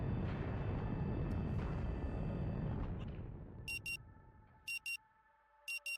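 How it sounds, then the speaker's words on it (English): A beeping alarm in the video game Rue Valley: short paired electronic beeps repeating in clusters after a fading low rumble, clear and fairly loud against a quiet background. "The frantic sound of the alarm nudges you back to the present."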